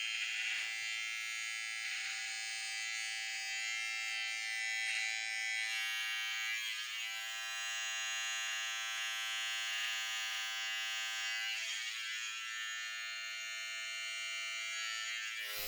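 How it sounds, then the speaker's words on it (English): A Wahl beard trimmer, run without its guide comb, trims away flyaway hairs with a steady, close, high-pitched electric buzz that holds unbroken for the whole stretch, with no talking. "we're going to trim away some of those flyaways"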